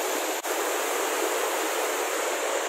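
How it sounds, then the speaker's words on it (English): Henrhyd waterfall in Wales roars steadily in the rain, a dense, even wash of falling water that fills the scene close and loud without any voices. "Waterfall and the rain."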